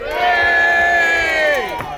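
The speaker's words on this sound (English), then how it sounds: "Cheer for the men of Sussex." A crowd at a medieval land battle re-enactment at a joust cheers and whoops together for about two seconds, loud and close, the voices rising at once and then trailing off near the end.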